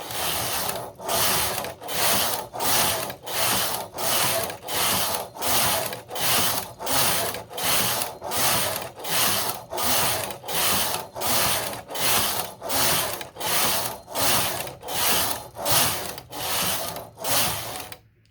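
A Singer knitting machine carriage swept back and forth across the needle bed while knitting a Fair Isle pattern, giving a loud, even, rhythmic series of about twenty whooshing, clattering passes, one every second or so, with no talking.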